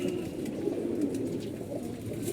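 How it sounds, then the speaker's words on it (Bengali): A female khaki pigeon coos close by in a loft, giving a low, soft, continuous murmuring coo in gentle repeated pulses. "কবুতরটা যে একটা খাকি কবুতর আপনারা দেখতে পাচ্ছেন, একটা মাদি কবুতর"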